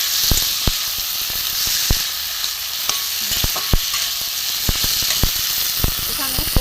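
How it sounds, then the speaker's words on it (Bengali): Peas and boiled baby potatoes being stirred and fried with spices in a pan for a vegetarian curry, a steady close sizzle with repeated sharp scraping clicks of a spatula. "একটু ভালো করে একসাথে কষিয়ে নেবো মশলার সাথে"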